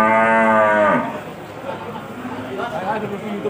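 A black Pegon cow at a livestock market gives one loud, drawn-out moo close by, followed by quieter market chatter and background voices.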